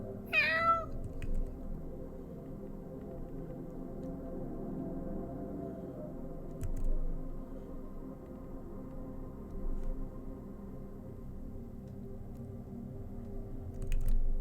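A single short meow sounds near the start, then a long stretch of quiet low room hum with faint scattered ticks.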